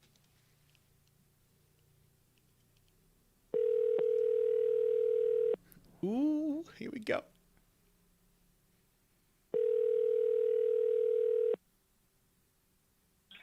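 Telephone ringback tone on an outgoing call to a detective: two long, steady electronic buzzes of about two seconds each, separated by a pause in which someone speaks briefly, both fairly clear and close.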